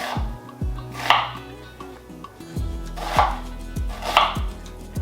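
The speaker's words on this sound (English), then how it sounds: "With the onion, we're just going to cube that onion up" A kitchen knife cubes an onion on a cutting board, sharp chopping strokes landing in short bursts with brief pauses between runs, close and clear.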